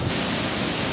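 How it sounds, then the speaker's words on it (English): Steady wind buffets the microphone outdoors beside a parked Acura TL, a continuous loud broadband rush with no voices. "Now it may be a little windy"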